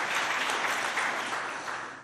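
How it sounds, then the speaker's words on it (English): Sustained applause from an audience at a film industry legislative preview event in Oklahoma, a dense even roar of clapping that tapers slightly toward the end, with no speech over it. "Give yourselves a clap."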